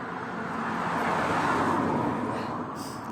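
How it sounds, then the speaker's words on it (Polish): Traffic on a road sounds as a broad, steady rumble and hiss of cars passing, swelling and fading gently over three seconds with no talk. "Samochodziki jeżdżą."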